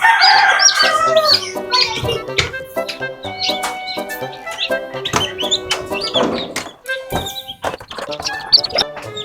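A mother hen clucks among her seven chicks in a brooder, with rapid high peeps from the chicks layered over her lower clucks, close and busy, broken by a few thumps.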